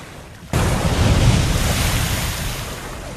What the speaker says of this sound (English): that barrier of like crazy waves